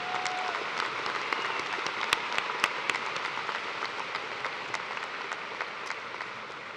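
A large audience at a spring university commencement ceremony claps steadily in a dense, even wash of applause with scattered louder claps, sustained throughout without talk.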